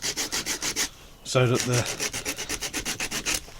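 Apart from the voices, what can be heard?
sanding edges of a leather dagger sheath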